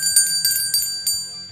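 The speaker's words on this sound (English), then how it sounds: "please press that red button and ring the notification bell for future content" A bright notification bell sound effect rings in several quick repeated dings over about a second and a half, loud and close with no talking.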